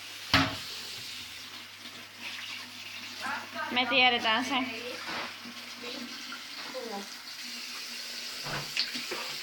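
Water runs steadily from a kitchen tap, a continuous close hiss and splash lasting the whole stretch while people talk over it.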